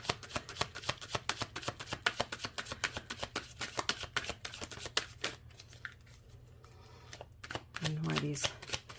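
Tarot cards riffled and shuffled by hand in quick, crisp bursts, repeated through most of the stretch with brief pauses, close and fairly quiet, with a faint hum underneath.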